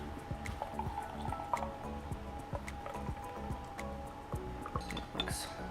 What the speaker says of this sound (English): we're gonna take this water, so we're gonna set this and we're gonna pour it like in a circular motion